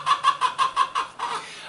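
A hen in a hen house clucks in a quick run of about six sharp, evenly spaced calls close by, ending in a longer drawn-out cluck, with no other voices.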